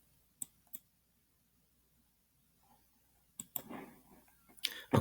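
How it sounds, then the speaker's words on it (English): A few sharp, quiet clicks of a computer mouse, two isolated taps early, then a cluster of faint clicks with soft handling noise near the end, close and otherwise nearly silent. "I'm going to go ahead and right-click and create a sketch"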